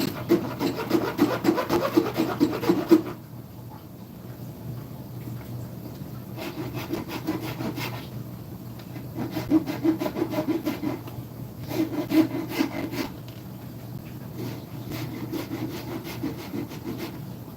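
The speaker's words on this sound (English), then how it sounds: "So I'm cutting up the grain right now. It makes for a rougher cut, but because this is a rasp, it's not going to tear out." A wood rasp cuts up the grain in long, repeated rough strokes, loud and close, with one short pause and then a rhythmic run of scraping passes.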